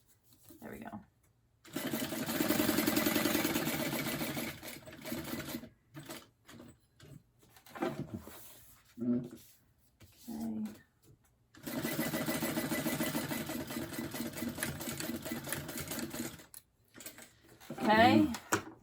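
A sewing machine stitches a card slot on a purse, with two long bursts of rapid, steady stitching and short start-and-stop back-stitching between them. It runs close and loud, with a voice speaking in the pauses.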